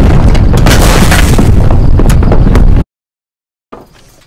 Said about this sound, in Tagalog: lumindol ng malakas